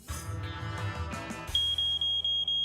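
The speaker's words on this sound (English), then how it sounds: "Code 16, malfunctioning smoke detector." A malfunctioning smoke detector gives loud, piercing beeps, five evenly spaced pulses sounding close, after a short stretch of busy background noise.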